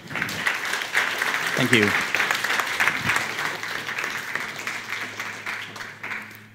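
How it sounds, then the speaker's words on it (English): Audience at a SNiC 2017 conference talk applauding a speaker introduced to present on 3D printing, a sustained wash of clapping from a seated crowd that fades out, with a brief spoken word and a voice near the start. "Can I have a wonderful applause"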